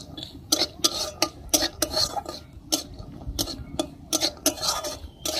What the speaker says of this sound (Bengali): কাজু বাদামটা একটু ভালো করে নেড়ে নেব।